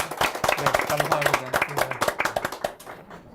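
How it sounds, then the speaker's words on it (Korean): A seated audience applauds at a live talk event on the sharing economy and cooperatives, a dense burst of close hand claps under a brief spoken thank-you, fading out at the end. "네. 박수!"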